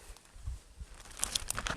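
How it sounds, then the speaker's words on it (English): A plastic bag crinkles and rustles in short, close bursts that grow busier toward the end, with no talking. "Okay, I've got my plastic bag,"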